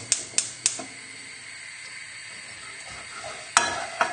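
A flour paste for seafood chowder is stirred in a hot pan. A steady soft sizzle runs underneath, and sharp clicks of the utensil scrape against the pan in a quick cluster at the start and again near the end.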